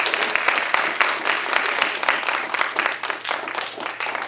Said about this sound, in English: we'll give a last round of applause for our first round of panelists